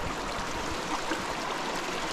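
Stream water runs beneath a small footbridge on a bush walk between Adelaide River and Daly River, giving a steady, close trickle and gurgle that continues evenly with no voices.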